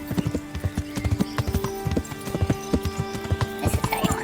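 Horse hooves gallop in the video game Kingdom Come Deliverance, a fast, steady clip-clop of repeated close, loud strikes running throughout, with faint tonal game ambience beneath.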